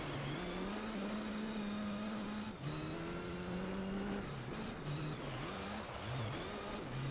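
A race car engine in the video game Gran Turismo Concept 2002 drones steadily and loud throughout, its pitch rising and falling with shifts and throttle changes, with no talk.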